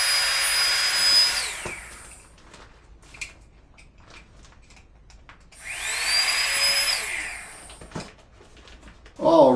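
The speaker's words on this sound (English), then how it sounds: "So since we do have an air bladder, I'm going to blow it up. So hold on a second while I grab the pump." An electric pump inflates the air bladder of a Zenbivy sleep system in two loud, sustained whirring bursts, each winding down. Quiet handling noises and small clicks fill the pause between them.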